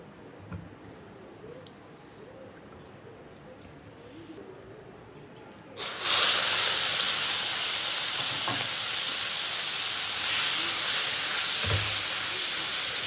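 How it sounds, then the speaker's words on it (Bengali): Quiet kitchen bustle, then a sudden loud sizzle as prawns hit hot oil in a wok, continuing as a steady crackling fry with occasional stirring clinks. "চিংড়ি মাছটাকে আমি একটু ভেজে নেবো"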